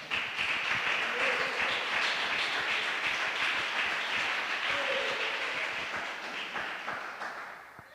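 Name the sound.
congregation applauding in church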